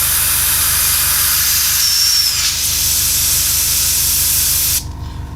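An airbrush trigger pumped over and over to flush leftover paint from the colour cup, a loud, close, continuous spray hiss that cuts off abruptly near the end, no talking.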